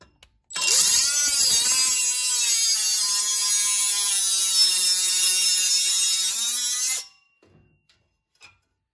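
Milwaukee cut-off tool slicing through metal clamped in a vise, a loud, close, high-pitched whining grind held for about six seconds before stopping abruptly, followed by faint clicks.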